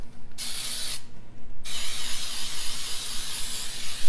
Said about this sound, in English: get my pan, and I'm going to spray it with Baker's Joy